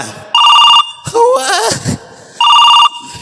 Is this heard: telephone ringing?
yes